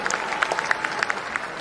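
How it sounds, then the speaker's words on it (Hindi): Audience clapping to welcome a speaker at a political workshop in a Patna auditorium, a brief burst of scattered, moderately loud claps from a seated crowd. "राममणि चंद्रवंशी जी का एक जोरदार ताली से स्वागत करिए।"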